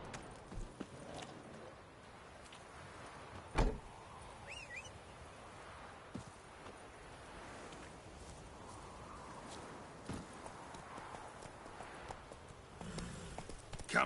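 Roach, the horse in The Witcher III, trots with a steady, quiet clip-clop of hooves, the rhythmic footfalls continuing against a soft ambient background.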